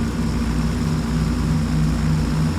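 Propeller engines of a Handley Page HP.42 airliner in Flight Simulator X, throttling down, give a steady, continuous low droning hum with no voices.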